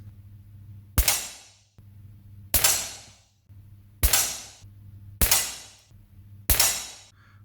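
Umarex Legends Luger P08 air pistol firing pellets at a card target, five sharp separate shots about a second and a half apart, each a loud close crack with a short ringing tail over a low hum.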